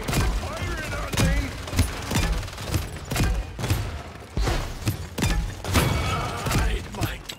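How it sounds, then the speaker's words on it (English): Rapid enemy gunfire in the Paladins video game, a dense fusillade of repeated close, loud shots and thumps in uneven bursts across the whole stretch, with a voice shouting over it. "Enemy fire! Enemy firing on me!"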